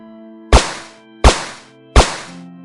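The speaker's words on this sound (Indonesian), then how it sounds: "Sebuah tembakan diselubungi peredam berbunyi dengan sangat senyap" Three sharp suppressed gunshots, evenly spaced about three quarters of a second apart, each a loud close thwack with a short fading tail and no voices.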